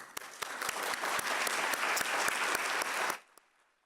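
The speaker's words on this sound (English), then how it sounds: "let me just take a last applause for you" An audience at a university lecture claps together in a dense, close burst of applause with a few sharp individual claps standing out, then it stops abruptly near the end, leaving near-silence.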